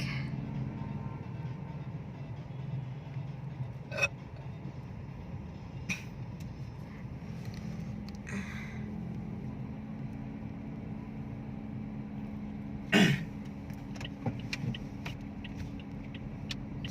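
Steady low rumble of road traffic in holiday congestion, with idling and passing vehicles heard from inside or beside a car, a few sharp clicks and a brief louder knock near the end, no talk.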